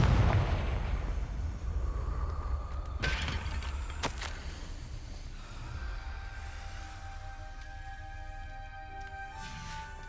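A Confringo blasting spell in Hogwarts Legacy goes off in a loud, close burst of explosive impacts and rumbling, with sharp cracks around the third and fourth seconds and a lingering magical ring that fades into low ambience.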